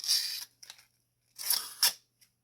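A dull blade on a budget multi-tool hacks at stiff plastic packaging in close, scraping, crackling bursts, two longer strokes and a few short nicks separated by silence.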